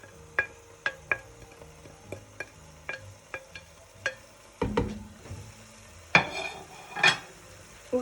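A spoon stirs zucchini, red pepper and onion in a pan, producing a series of close utensil taps and scrapes over a soft sizzle, with irregular clinks against the metal.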